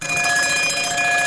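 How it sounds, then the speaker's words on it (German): An alarm clock rings with a loud, continuous, bright electronic tone that holds steady from start to finish. "Das war mein Wecker."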